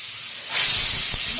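A pressure cooker boiling taro corms lets out a loud, steady hissing whistle of steam that rises abruptly and holds on, with a faint clatter near the end.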